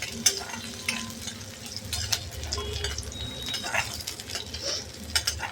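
Green chili sautés in hot ghee for dal tadka, giving a close, continuous crackling sizzle broken by light clinks and scrapes of a spoon stirring in the pan.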